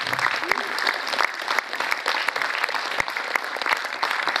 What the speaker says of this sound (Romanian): Haideți să-i aplaudăm cât de tare au puteți!